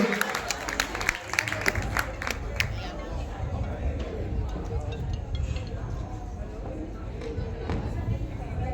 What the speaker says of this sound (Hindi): जोरदार तालियां हो जाए हमारी पूजा कौशिक जी के लिए।